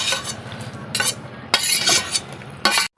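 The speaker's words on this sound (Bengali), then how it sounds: "এই যে দেখুন এখন আমি দিয়ে দিলাম ভেজে রাখা যে ভেন্ডিগুলো যে ভেজে রেখেছিলাম" Fried okra stirred into a pan with prawns, in bursts of sharp scraping and clinking of a spatula against the metal pan over a softer sizzle, close and loud.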